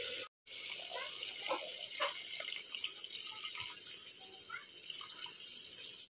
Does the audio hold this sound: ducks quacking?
no